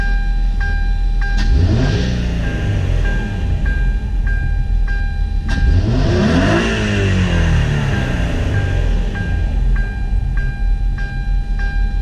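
A 2008 Hyundai Tiburon with a newly installed intake is revved twice, each pull a loud, close engine roar climbing steeply in pitch toward red line before dropping back to idle; no one speaks.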